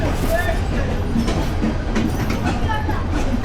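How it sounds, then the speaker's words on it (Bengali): A Narsingdi commuter train rolls into Dhaka Airport railway station with a continuous loud rumble and rhythmic clatter of wheels over rail joints, a voice speaking over it. "এটি হচ্ছে কমিউটার ট্রেন।"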